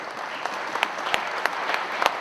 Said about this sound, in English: So a round of applause for Flan.